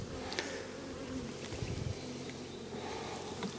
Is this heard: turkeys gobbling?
no